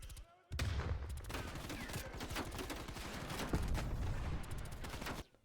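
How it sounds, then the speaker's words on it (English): Sustained rapid machine gun fire rattles in Call of Duty Cold War, with barrels exploding around an arena. The bursts are dense and loud and run almost continuously for about five seconds. "this machine gun wielding maniac is able to explode these various barrels around the arena"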